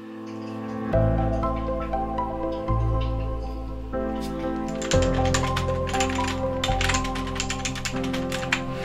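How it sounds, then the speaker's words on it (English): Clicky computer keyboard typing on a business owner's desk, a fast run of sharp, close keystrokes over a sustained tonal music bed. "The keyboard itself is not quiet."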